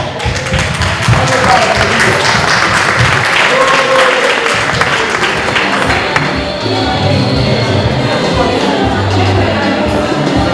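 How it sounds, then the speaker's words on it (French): Audience applause at a French blog event as a co-founder of a blog is called up, dense clapping mixed with crowd noise and some talk, loud and sustained throughout. "S'il vous plaît, applaudissements."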